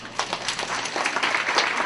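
Audience applause at a business women's forum, a short burst of many hands clapping in a dense, steady patter, moderately loud and without any talk.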